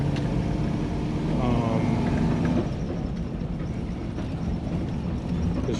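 A 1996 Impala SS with a swapped LS 6.0 V8 and 4L80e transmission driving, a loud continuous low engine drone heard from inside the car, with a person talking briefly over it.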